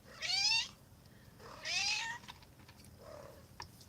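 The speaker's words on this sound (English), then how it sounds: "Hearing him meowing, that's my cat, Pumpkin." Two clear, drawn-out cat meows close by, followed by a softer, shorter third meow, with quiet room background between them.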